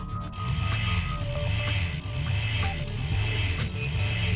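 A wrench cranks a bolt on a platform in Ratchet & Clank: Going Commando, a continuous loud loop of mechanical ratcheting and clicking gear noise with a steady repeating rhythm.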